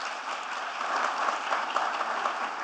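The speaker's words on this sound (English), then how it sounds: "a big round of applause for Dr." An audience at a startup innovation event in India applauds a speaker with steady, dense clapping that sounds like a broad hiss of hands at moderate volume.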